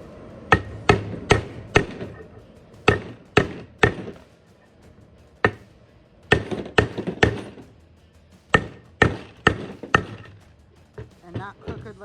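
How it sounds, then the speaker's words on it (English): A hammer taps a seal presser to drive an engine seal into a Mopar 408 stroker build: clusters of sharp, close metallic strikes in quick groups of two to four, repeated over several seconds. "Need a hammer."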